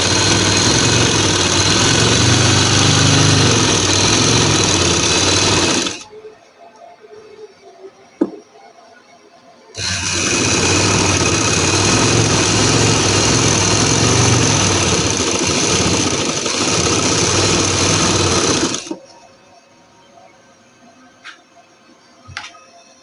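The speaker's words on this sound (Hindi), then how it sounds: "इस तरह से मैं आपको सिलाई लगा के बताती हूँ" A sewing machine stitches fabric for a salwar in two long loud runs of steady mechanical whirring, separated by a quiet pause with small clicks.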